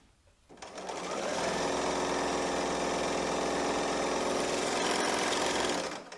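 An L890 overlock serger stitches a scrap of cotton, starting after a brief pause and then running at a steady, fast, even whir that holds for several seconds before stopping.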